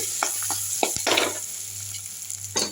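Egg fries in hot oil for a drumstick-flower egg scramble, giving a close, continuous sizzle with bursts of crackling and a few stirring scrapes, with no voices.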